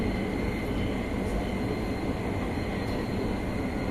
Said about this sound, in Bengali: আর এই দেখতে পাচ্ছেন আর একটা ট্রেন আসতেছে ঠিক এইভাবে